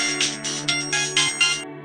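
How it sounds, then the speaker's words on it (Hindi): An office telephone rings in a cabin, a loud electronic ringtone pulsing in six quick regular bursts over a steady tonal drone, close and clear with no voices. "तभी टेलीफोन बजता है।"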